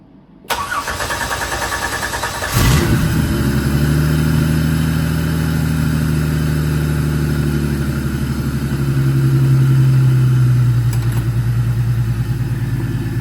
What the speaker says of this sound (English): I was just going to crank it over quick and then start it